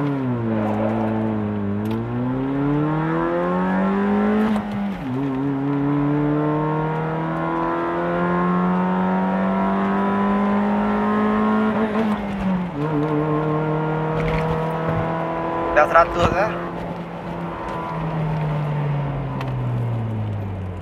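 A Honda CR-Z coupe in sport mode accelerates through the gears, its engine note rising steadily, dropping at each shift and climbing again, heard from inside the car with no talk.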